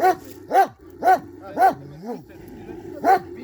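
A chained dog barks in a steady series of sharp, loud barks about half a second apart, with a brief whimpering whine in between, close by over low background noise.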